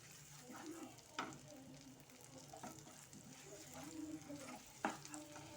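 Ingredients for egg fried rice, including chopped garlic, sautéed in a pan: a soft, fairly quiet sizzle with occasional spatula taps and scrapes.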